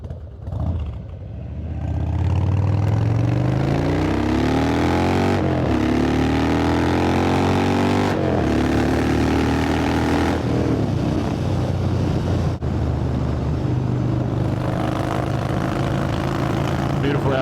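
Harley-Davidson Softail Deuce with a twin cam engine bored out with a 95 cubic inch kit, heard from the rider's seat as a loud, steady engine drone rising and falling through gear changes, with wind noise.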